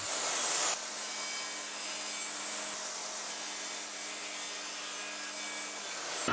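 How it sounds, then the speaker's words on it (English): A panel saw rough-cuts and trims the edges of a wooden board: a loud, steady whining buzz starts after a short moment, holds evenly for several seconds, then stops abruptly. "I'm using the panel saw to clean up both edges and rough cutting it to final length."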